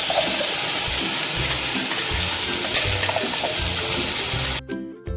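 Water poured into a paneer gravy simmering with whole spices (pepper, cinnamon, star anise, cloves, bay leaf), a steady gushing pour lasting several seconds before it abruptly stops near the end.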